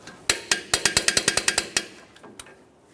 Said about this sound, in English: Torque wrench here,